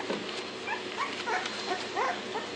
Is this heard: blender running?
no